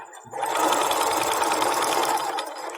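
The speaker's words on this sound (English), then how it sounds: "you'll want to go ahead and sew this down like this" A sewing machine stitches down the hem of homemade pajama pants, a loud, steady, fast mechanical whir that starts abruptly and runs continuously up close.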